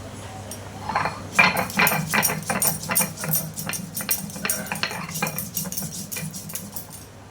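Mustard seeds and green chillies are ground by hand on a flat grinding stone, making a steady run of scraping, knocking strokes with clinks and a low background hum, close up and without talk.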